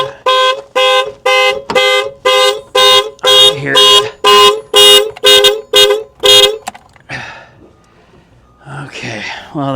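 A Cadillac CTS wagon's car alarm blares loudly in a fast run of repeated, evenly spaced horn-like tones for several seconds, then cuts off and a voice talks over the quiet afterward.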